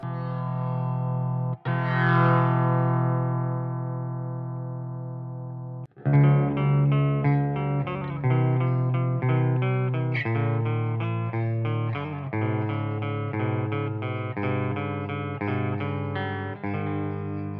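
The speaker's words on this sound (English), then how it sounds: "I'll crank this right up, see if it gets some distortion." Electric guitar played through a Randall RH300 G3 amp with the volume cranked right up, giving a loud, sustained, gritty overdriven tone: long ringing chords, then a run of shorter picked notes and chords, with no talk.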